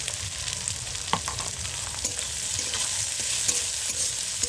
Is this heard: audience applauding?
no